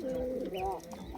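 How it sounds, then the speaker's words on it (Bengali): Domestic pigeons kept in a rearing loft give a short, quiet cooing call that lasts about a second. Human voices can be heard close by underneath it. "কবুতরগুলো দেখুন"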